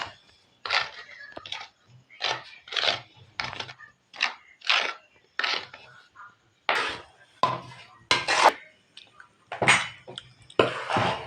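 Ada batter of flour mixed with grated coconut, cumin, cardamom and dry ginger is stirred and kneaded by hand in a vessel, giving repeated soft wet squelches and scrapes in a steady rhythm, close and fairly clear with no talking.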